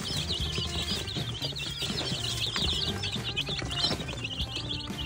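Many chicks chirp noisily and continuously, a dense chorus of high peeping close by over a low background rumble.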